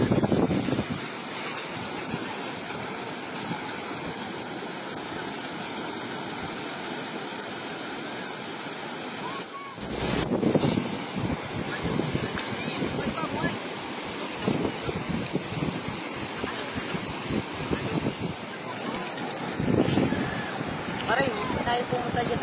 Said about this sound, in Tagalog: Tingnan mo, malaki ang alon.